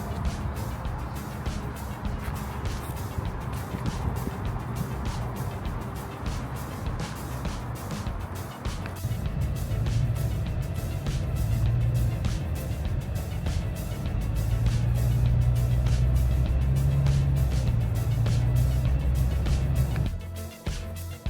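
Car cruising on a California highway, with a steady low road rumble and tire roar inside the cabin and engine drone shifting midway, continuous for twenty seconds with faint voices at times.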